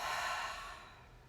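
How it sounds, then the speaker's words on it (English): One long breath, drawn deep and let out slowly during a calming breathing exercise, sounds close and airy, then fades gradually over about a second. "we inhale, we exhale it out"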